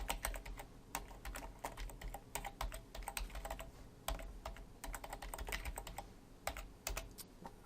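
Fingers type rapidly on a computer keyboard, a dense run of close, crisp key clicks with short pauses between bursts throughout.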